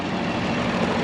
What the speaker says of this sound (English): So I'm gonna back the tractor up.